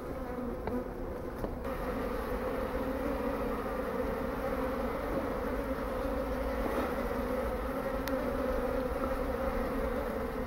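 Japanese honeybees swarm around and back into a hive box, a dense continuous buzzing hum filling the air near and loud throughout, with no voices.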